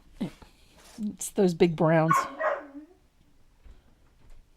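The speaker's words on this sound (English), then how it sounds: "you could probably hear her whining and barking right now" A pet dog whines and yips behind a closed door, high-pitched whimpers and short barks mixed with a person speaking nearby, the whole exchange brief and fairly quiet.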